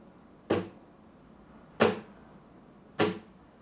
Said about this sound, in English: You have to hit the guitar as well to make that percussive beat kind of a sound